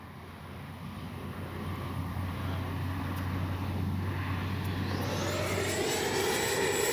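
FMS Avanti S 90mm EDF RC jet flying past at full speed, a steady loud ducted-fan whine and rushing roar holding throughout, with a rising tone near the end as the throttle is cut.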